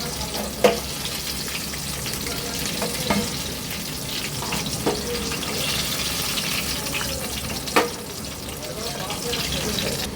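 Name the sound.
kachori frying in oil on low flame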